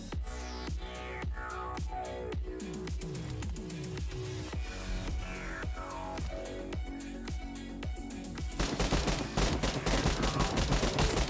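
Rapid automatic gunfire in the battle royale video game BGMI, a long regular burst of sharp shots with some sweeping echoing tails, turning into a denser, louder barrage near the end.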